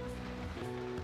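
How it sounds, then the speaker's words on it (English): Soft, steady patter of rain in Persona 5 Royal hitting a surface, continuous and fairly quiet, with faint background tones underneath. "Wait, it's raining."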